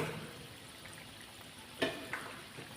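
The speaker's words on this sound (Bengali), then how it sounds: "এবারে এটাকে আমি আস্তে করে কম ওভেনে কম আঁচে আমি আস্তে করে ভাজা করব ধীরে ধীরে" Palm fruit fritters frying slowly in a wok over a low flame, a faint steady sizzle with a couple of brief sharper crackles or spatula scrapes.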